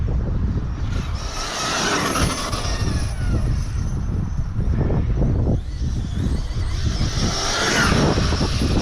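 A Losi 5ive B brushless RC car with 18t pinion and oil-filled center diff drives over ground, giving a rough, rumbling, crunching roar with whirring surges that stay close and loud throughout, with no voices.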